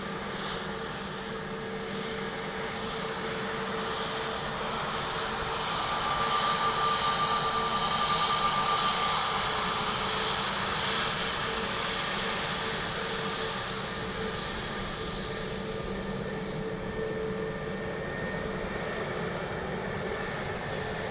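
A KLM Boeing 737 on approach to runway 28 left at Dublin Airport produces a steady, broad jet engine roar lasting throughout, swelling slightly in the middle, distant and unbroken.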